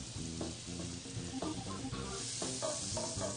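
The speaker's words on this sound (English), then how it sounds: "And that's going to sizzle right away." Butter sizzling in a hot pan while cooking chicken Marsala, a steady close frying hiss with light stirring and utensil knocks throughout.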